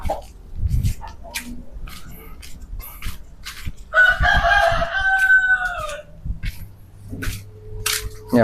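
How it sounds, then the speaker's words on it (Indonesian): A neighbour's rooster crows once, a loud drawn-out call near the middle, with chickens clucking in scattered bursts before and after it; the birds are fairly close outdoors and no one talks. "tadi ayam tetangga itu pada main di depan sini, rada berisik"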